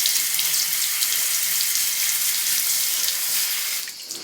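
Gentle low-pressure stream of water rinsing a bicycle, a steady hissing spray that runs continuously and close before easing off at the very end.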